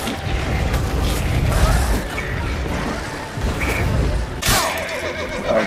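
A horse neighs and whinnies in distress while under attack in the video game The Witcher 3, with loud, close cries over clattering, thudding combat noise and no talking.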